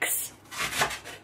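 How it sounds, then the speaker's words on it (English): Leeks being sliced with a knife on a board in a home kitchen: a short run of soft, scraping chops, close and fairly quiet. "Uncle's chopping some leeks."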